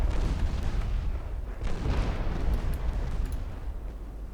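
Heavy naval main guns boom in Ultimate Admiral Dreadnoughts, a dense, continuous rumble of loud low blasts and rolling thunder filling the whole stretch with no talking.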